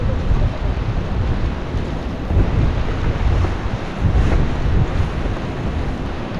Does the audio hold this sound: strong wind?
yes